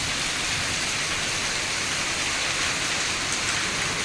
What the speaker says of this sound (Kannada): ಮಳೆ ಬರ್ತಾ ಉಂಟಲ್ಲ